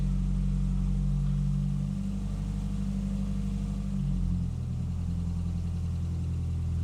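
A four-wheel drive vehicle's engine idles steadily nearby while it is maneuvered into a parking spot in a workshop, a low continuous rumble with a slight shift in tone partway through.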